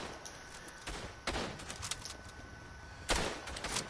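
Scattered rifle shots crack out in the WW1 shooter Verdun. A few sharp reports ring out against a low battlefield hiss, and one shot lands much louder near the end.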